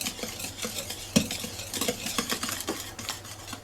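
A spoon works gently through chocolate speculoos cake batter in a bowl, giving soft, continuous scraping and knocking with light clicks against the sides, close and steady without talk.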